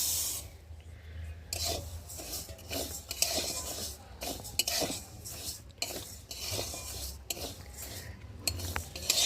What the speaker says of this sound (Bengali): এখন এই যে মুগ ডালগুলোকে দিয়ে ভালো করে ভেজে নেব